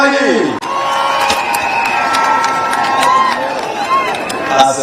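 A large outdoor crowd at a Women's Day gathering in Homa Bay, Kenya, sending up loud, continuous cheering and shouting with whoops, voices blending in a dense roar that barely dips.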